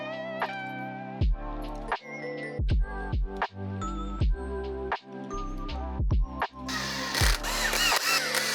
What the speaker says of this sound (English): then we'll finish up with the drill on a low torque setting to tighten them all down